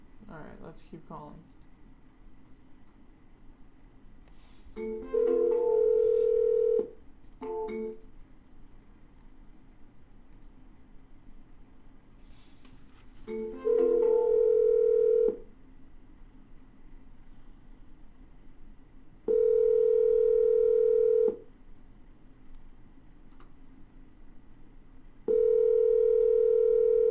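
A phone call being placed: a steady dial tone, then repeated ringback tones in long evenly spaced bursts, with brief faint keypad or handling sounds in between over a quiet line.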